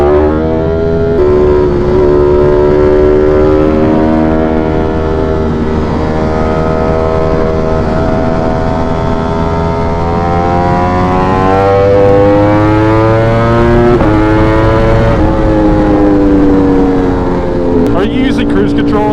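An Italian motorcycle engine revs hard under a road underpass, loud and close, rising and falling in pitch with a sustained throaty roar and echo, while wind rush carries through.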